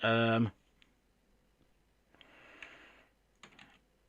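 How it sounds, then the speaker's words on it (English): Typing on a computer keyboard: soft, scattered clicking bursts follow a brief loud voice-like sound at the start, with quiet gaps between the clusters of keystrokes. "I'm saying this as I'm typing it"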